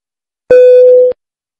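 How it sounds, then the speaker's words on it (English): A single low electronic tone over an aircraft cabin PA system, heard when the fasten seatbelt signs switch on or off: one steady, clear, loud beep lasting about half a second, then silence. "a low tone sounds over the PA system"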